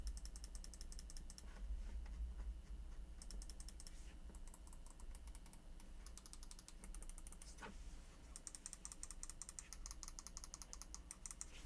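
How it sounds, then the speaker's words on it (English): Rapid bursts of sharp, light clicks from a Corsair Nightsabre RGB wireless gaming mouse's buttons come in quick clusters with short pauses between them, close and fairly quiet. "here's a quick click test for y'all to hear what this thing actually sounds like"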